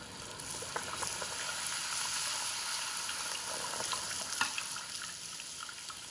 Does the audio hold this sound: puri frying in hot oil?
yes